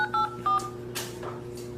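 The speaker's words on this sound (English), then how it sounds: "Enter your PIN." A telephone keypad sends a short run of DTMF tones while a PIN is entered on an automated EBT benefits line: a few quick, clean beeps in sequence, heard alone and fairly faint.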